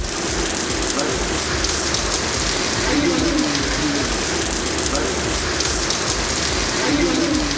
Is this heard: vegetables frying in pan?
no